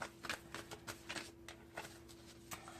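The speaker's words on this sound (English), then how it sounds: "If a card pops out, I'm going to stop shuffling from there." A deck of cards is shuffled by hand, giving a quiet, steady run of soft riffling patters in quick repeated bursts, close and faint.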